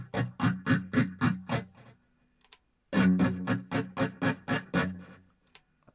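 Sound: guitar with phaser effect, BOSS MS-3

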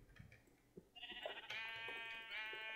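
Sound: sheep bleating in the video game Minecraft

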